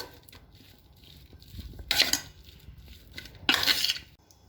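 Bataka vada potato filling being mixed in a bowl, with two distinct bursts of spoon scraping and clinking against the dish between quieter stretches, close and fairly soft, no talking.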